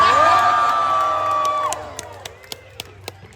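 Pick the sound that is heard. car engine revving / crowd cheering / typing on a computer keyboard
crowd cheering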